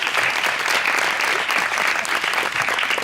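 A live audience breaks into loud, sustained applause, with thick continuous clapping close to the microphone that holds steady for the whole stretch.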